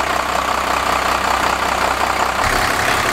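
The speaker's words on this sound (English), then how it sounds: "The engine's finally warming up." A step van engine runs steadily during a fuel pump shutoff solenoid test, a continuous loud idle rumble with a slight shift in tone near the end and no talking.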